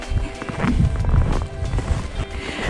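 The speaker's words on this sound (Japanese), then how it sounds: "この雪を踏みしめる音って、なんか懐かしいっていう" Footsteps crunch on snow along a rural Okhotsk snowy road, a steady series of soft, close crunches at a walking pace with faint background noise.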